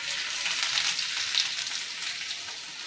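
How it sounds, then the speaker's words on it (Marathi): Chopped onion sizzles and crackles in hot oil for a tempering while a fresh cashew curry is being made, a steady, close hiss with small pops and no talking. "तेल तापलं आहे. मी आता फोडणीत कांदा टाकते,"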